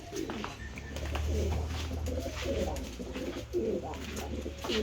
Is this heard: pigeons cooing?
yes